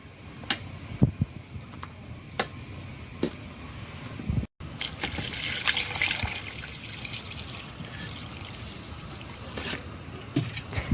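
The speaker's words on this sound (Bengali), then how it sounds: "এখন অন্য একটি পাত্রে ঢেলে নিচ্ছি, ঠান্ডা করব, তারপরে ঢেলে দেব দুধ।" Liquid poured from one pot into another pot while making soaked Bengali pitha, a steady trickling, splashing stream close by with some clatter, no speech.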